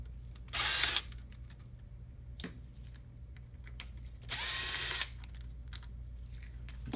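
Power drill backing out screws from a Lexus IS 250/350 navigation faceplate: two short high whirring bursts about four seconds apart, close and fairly loud, with faint clicks between.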